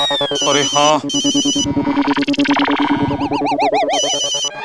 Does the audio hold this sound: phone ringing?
yes